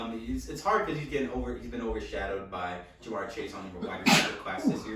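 A single sharp sneeze from a man on a sports talk show bursts out near the end, partly masked by continuous male conversation.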